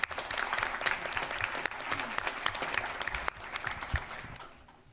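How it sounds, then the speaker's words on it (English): A room full of people at a board meeting claps warmly, a dense patter of applause that gradually softens and fades out. "Let's applaud and thank."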